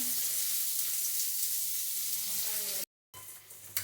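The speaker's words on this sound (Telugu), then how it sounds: "ఇదిగండి, సొరకాయ ముక్కలు వేస్తున్నాను. సొరకాయ తొక్క ముక్కలు ఇవి కూడా విడిగా వేపించుకోవాలండి." Bottle gourd peel pieces frying in a pan give a loud, steady sizzle that cuts out abruptly, then resumes more quietly.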